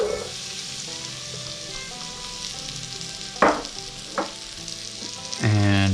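Onion hitting melted butter in a pan over medium heat for a hearty chicken stew, giving a steady loud sizzle and frying crackle with a few sharp bursts of spitting, close up and with no talking.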